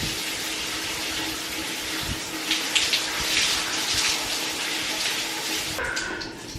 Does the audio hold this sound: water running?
yes